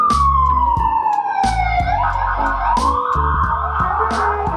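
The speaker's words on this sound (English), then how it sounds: "we are hearing ambulances now, the cars passing by" A wailing ambulance siren sweeps down and back up in pitch on a Washington DC street, loud and continuous, with the rumble of passing cars underneath and no talking.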